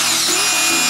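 A cordless hammer drill runs at full power drilling a hole, a loud, close, continuous whirring buzz with a slight shift in pitch partway through and no speech.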